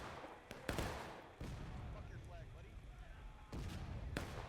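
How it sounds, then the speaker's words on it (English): Artillery booms in a large Civil War video game battle, several sharp blasts spaced irregularly against a constant din of distant gunfire, fairly faint overall. "Union artillery hitting CSA."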